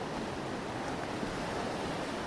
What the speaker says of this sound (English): We've got a bunch of waves around.